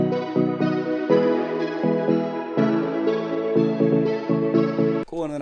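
A plucky synth preset from Electra X in FL Studio plays a chord progression in a stutter-stepped rhythm: short, bright chord stabs in an uneven pattern, loud and alone, ending in a brief glitchy burst.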